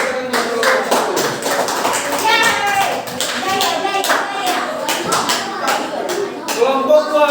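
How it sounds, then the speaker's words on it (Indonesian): A classroom group of children claps for the first group, a dense burst of applause that rises and falls, with voices calling out over it. "beri tepuk tangan untuk kelompok 1"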